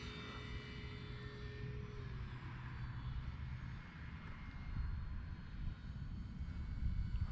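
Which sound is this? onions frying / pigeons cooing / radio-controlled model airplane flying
radio-controlled model airplane flying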